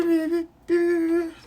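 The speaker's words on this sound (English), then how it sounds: "it was the sound the water makes when it fills a whole bamboo" Water filling a whole bamboo tube gives two hollow, resonant tones with a brief gap between them, close and fairly soft, with no voices.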